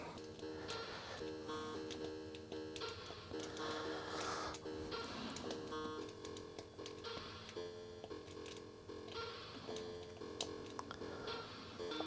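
International Karate running on an Atari XE GS console, with steady electronic game tones and a rapid ticking, clicking pattern that carries on throughout at moderate level, with no talking.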